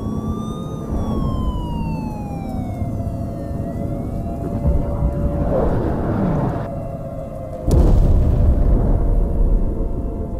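An airstrike explosion hitting close by in a war zone, a sudden heavy boom late in the sequence, preceded by a wailing siren sweeping up and down over a constant rumbling background.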